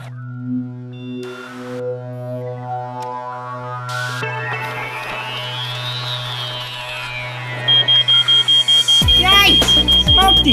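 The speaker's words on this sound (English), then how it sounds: "I heard your smoke alarm going off" A smoke detector chirps in an animated kitchen scene over a sustained musical tone, then a loud run of evenly spaced electronic beeps takes over near the end, with no talking.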